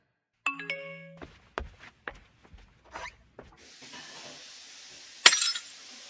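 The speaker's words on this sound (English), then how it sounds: "Sorry, I dropped a glass." A glass dropped in a kitchen, several clinking knocks and chinks as it hits and bounces, then a sharp bright shatter with hissing scatter afterward, heard alone and fairly close.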